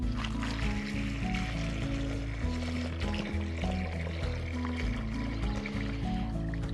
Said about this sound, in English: I fill the bucket with some water